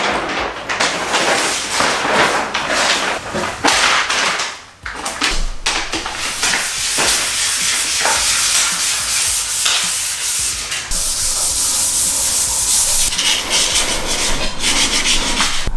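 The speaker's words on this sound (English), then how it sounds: "I'm gonna be sanding from here all the way back." Steady, gritty sanding rubs against a Honda Prelude's metal exhaust pipe up close, a continuous abrasive scrape with brief pauses and strokes changing pace.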